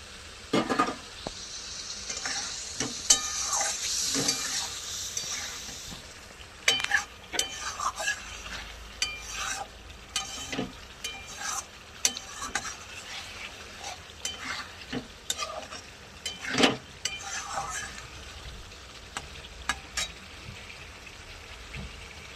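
Eggs fry in oil with Kashmiri chili, a soft steady sizzle under repeated clinks and scrapes of a utensil against the pan, close by with irregular stirring knocks throughout.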